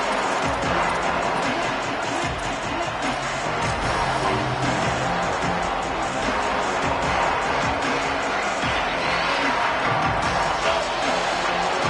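A football stadium crowd roars steadily at a Penn State versus Michigan game, a dense, loud wash of voices that never lets up, with faint chatter mixed into the din.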